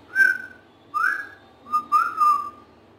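A person whistles a few short, wavering notes in separate bursts, unsteady and breathy like a shaky first attempt, heard alone and close without any talk.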